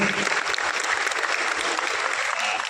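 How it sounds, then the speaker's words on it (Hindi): Steady applause from a crowd, dense clapping filling the whole stretch without pause. "मैं चाहता हूँ कि आप तालियों से उनका स्वागत करेंगे"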